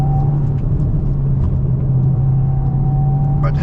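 A 2025 Subaru WRX tS Spec B with a manual gearbox drives through a tight corner, its engine holding a steady, loud droning hum from inside the cabin, with a faint voice underneath.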